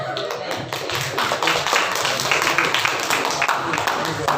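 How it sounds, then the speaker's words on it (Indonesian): A classroom group claps together in a steady, dense round of applause that fills the room, close and fairly loud, with voices chattering underneath. "Tepuk tangannya dong."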